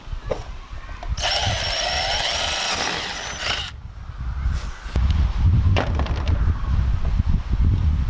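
A power drill whirs steadily for several seconds, boring into a corrugated translucent fiberglass porch roof panel, then stops and gives way to rougher handling and tool noise.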